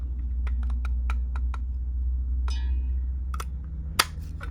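Scissors snip the small ends off a handmade Christmas card, a series of short, crisp cuts with a few faint rustles of paper against a steady low hum.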